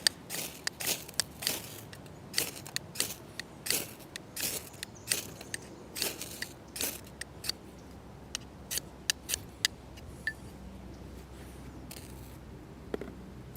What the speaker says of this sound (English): I'm gonna start this one with nothing but sparks.